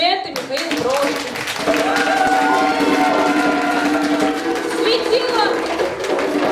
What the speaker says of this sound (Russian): Бурные аплодисменты Михаилу Бровочке